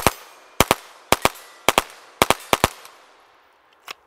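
Rifle emptying a magazine at silhouette targets: sharp shots in quick pairs, about a dozen reports spaced evenly, then a lone final shot after a short gap, loud and close.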